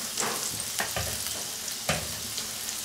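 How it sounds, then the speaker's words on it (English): Loud continuous sizzle of chicken frying in a pan, broken by several sharp scraping stirs and spatter bursts. "put the remaining chicken for frying"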